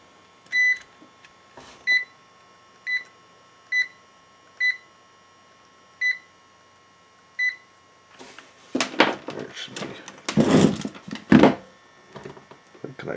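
A multimeter gives a series of short, evenly spaced beeps, about eight in a row at close range, then rustling and clattering handling noise takes over while the meter is worked on a three-phase alternator.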